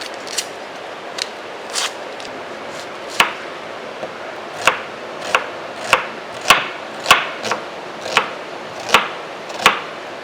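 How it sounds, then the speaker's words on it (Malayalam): A knife chops onions on a board in a steady run of sharp, close taps, some louder than others, with no talk over them. "ഇനി നമ്മൾ സവാള എടുത്തു വെച്ചിരിക്കുന്നതിനെ ക്ലീൻ ചെയ്ത് കട്ട് ചെയ്തെടുക്കാം"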